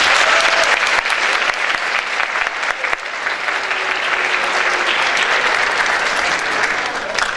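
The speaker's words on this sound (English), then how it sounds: "Please give her a round of applause." Sustained audience applause fills a school speech program, dense and steady clapping from a large crowd, continuing evenly for several seconds without a break.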